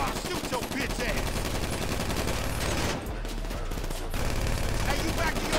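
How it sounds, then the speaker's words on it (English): Sustained automatic gunfire from the video game Grand Theft Auto V rattles almost without pause, dense rapid shots that dip briefly then resume loudly, with voices mixed in. "Hold still while I shoot your bitch ass"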